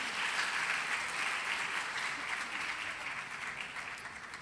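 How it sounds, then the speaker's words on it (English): Audience at a school poetry recitation contest claps in a steady, sustained round of applause, even and continuous throughout. "let's give all of our performance a big round of applause"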